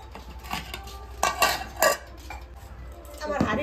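Rice being served at home, with cutlery and pots clattering and scraping close by in several sharp clanks and a louder burst near the end, no speech over it.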